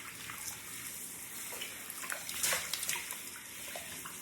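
Water running through curly hair during a wash-day rinse, a steady splashing flow like a shower or tap with brief louder gushes, no voices.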